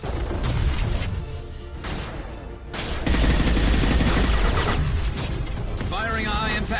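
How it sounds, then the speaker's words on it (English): A high-impact weapon shot in Mass Effect 2 cracks out amid dense sci-fi combat, with bursts of gunfire and crashing impacts that swell louder midway and stay close and loud throughout. "Firing a high-impact shot."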